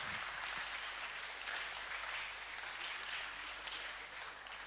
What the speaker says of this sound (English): Please a big applause to our charming assistant